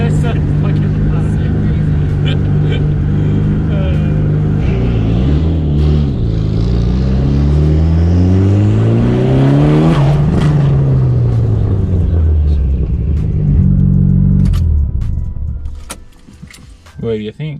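A turbocharged Mitsubishi Evo engine revs hard and loud, pitch sweeping up and down through several throttle blips before dropping off, with people talking over it.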